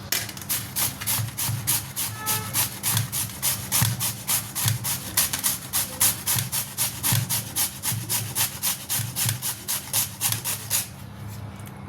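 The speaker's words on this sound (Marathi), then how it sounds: "आपण बीटरूटची साल पूर्ण काढून घेतलेली आहे आणि आता किसून घेणार आहोत" Peeled beetroot rubbed against a metal grater in steady back-and-forth strokes, a rhythmic rasping scrape repeating about twice a second, close and clear with no talk.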